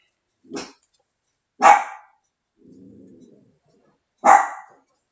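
A dog barks three times in sharp, loud bursts, spaced apart, with a low soft growl between the second and third barks.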